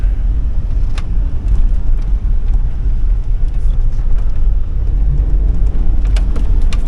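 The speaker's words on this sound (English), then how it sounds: "Low gear, getting down." A 2005 Hummer H2 with a 6.0L LQ4 V8 driving in low gear, a loud steady low rumble with rushing wind and road noise close to the microphone and no clear shifts.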